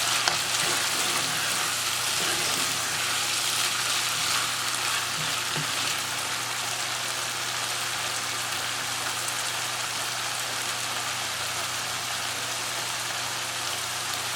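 Minced mutton keema frying in a pan: a loud, steady sizzle that runs the whole time like rain, with faint stirring underneath and no voices.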